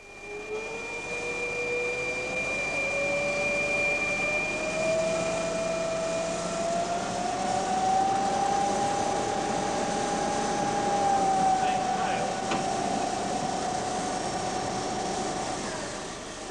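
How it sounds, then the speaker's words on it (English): A lathe cutting metal dry without coolant: a steady machine drone with a thin, sustained whining tone that slowly rises and holds, running alone and unbroken. "This lathe was specially set up to show what can happen if you cut"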